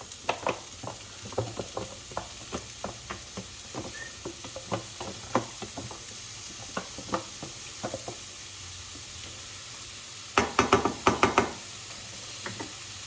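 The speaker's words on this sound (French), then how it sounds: "La poêle commence à chauffer. Du coup, je vais pouvoir mettre les lardons." Lardons hit a hot pan and fry with a faint continuous sizzle, overlaid by regular spatula knocks and scrapes and a quick cluster of louder clanks near the end.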